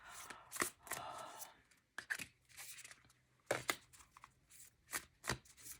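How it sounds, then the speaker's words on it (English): Tarot cards shuffled by hand in a quiet room, coming as a series of crisp riffling and slapping bursts with short pauses between them, near and fairly soft. "This is the weirdest shuffling I've ever done"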